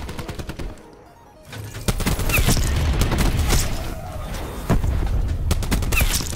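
Rapid automatic gunfire in the Call of Duty Black Ops 4 multiplayer shooter game, dense bursts of sharp shots that break off briefly and then resume loud and close.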